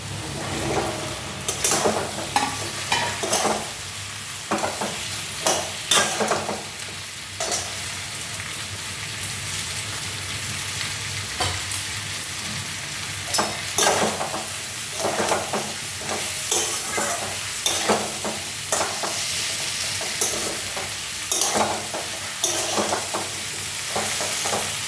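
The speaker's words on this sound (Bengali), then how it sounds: "এখন আমি ভেন্ডিটা দিয়ে দিচ্ছি।" Okra frying in a pan with chilli powder, a constant hissing sizzle with irregular scraping and clattering stirs, close up and without speech.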